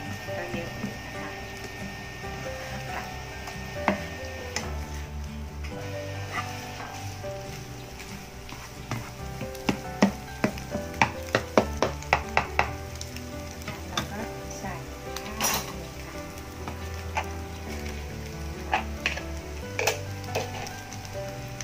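Chinese sausage fries in a pan with very little oil, giving a steady sizzle with scattered pops and utensil clicks against the pan. Background music plays throughout.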